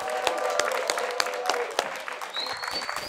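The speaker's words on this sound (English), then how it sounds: "Please, a round of applause as we welcome Mr." Studio audience applause on a talk show, a steady patter of clapping at moderate volume, carrying on without pause.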